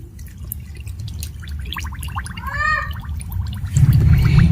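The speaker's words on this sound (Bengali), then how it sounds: "এবার আমি দিয়ে দিচ্ছি 1 কাপ জল।" One cup of water poured into semolina with salt and sugar for a pitha batter, giving bubbly gurgling and dripping that swells into a louder splashing pour near the end, with no talking.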